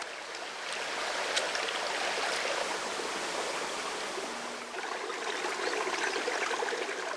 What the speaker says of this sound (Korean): 마당 앞 맑은 개울이죠